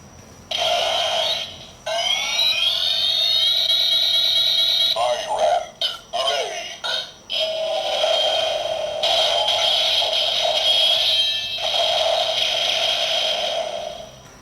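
A 2016 DX Amazons Driver toy transformation belt plays loud electronic chimes and synthesized tones, with rising whines and bursts of sound effects, punctuated by brief clicks and pauses.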